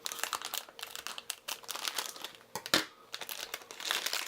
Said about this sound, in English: These are sealed blind bags, so I'm going to use the scissors.